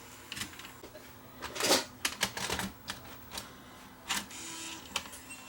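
Sony DSR11 DVCAM deck mechanism trying to load a large tape: faint mechanical clicks, whirs and small clattering bursts, irregular and close, with brief quiet gaps between movements.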